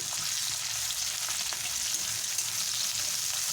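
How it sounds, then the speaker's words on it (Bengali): Chopped onion frying in oil with cumin until golden brown, a dense, steady sizzle close up with no pauses and no talking. "গোল্ডেন ব্রাউন যতক্ষণ না হয় ততক্ষণ আমি এটাকে ভাজতে থাকব"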